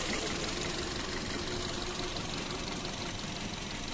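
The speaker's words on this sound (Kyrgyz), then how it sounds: "Мотор жагын угуп турасыздар." Idling 1.6 engine of a 2016 Skoda Octavia automatic, an even, uninterrupted low hum with faint knocking texture, heard close up and fairly quiet, with no voices.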